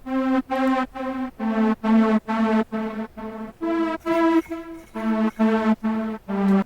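A Serum synth lead for a dance track's main drop plays a bright, buzzy melody of evenly spaced, clipped notes that step up and down in pitch, alone and fairly close.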